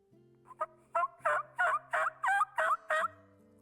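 Custom-made turkey call producing a series of about eight high-to-low yelp notes in an even, quickening rhythm, clear and close, with no talking.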